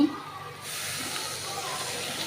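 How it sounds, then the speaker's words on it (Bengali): Water poured into a hot pan of chicken pieces, onion and masala spices bursts into a sudden loud hiss partway through that holds as a steady steaming sizzle, near and alone. "তো আর একটু দিয়ে দিব পানি"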